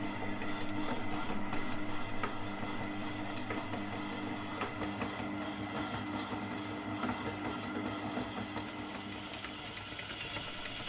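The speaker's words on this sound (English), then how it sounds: "all we're doing is getting the mixer going and, well, I say creaming it, fluffing the butter up a little bit" Electric mixer creaming butter for a pound cake, a steady mechanical whir and rattle that holds a constant level for the whole stretch with no voices over it.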